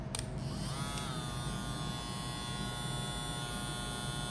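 A VGR V003 electric hair clipper runs close by with a steady, high buzzing hum, starting with a quick click as it switches on and holding level with no talk.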